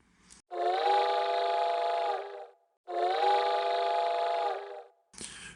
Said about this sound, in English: he heard the distant sound of the train's lonesome whistle coming from behind